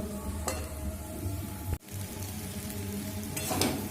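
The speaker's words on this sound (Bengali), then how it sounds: "দেখুন এইভাবে পাতিয়ে পাতিয়ে কিন্তু লতিটা একটু ধৈর্য ধরে ভাজা করে নিতে হবে" Taro stolons frying in a pan, a steady close sizzle with light stirring scrapes throughout, briefly cutting out partway through before resuming.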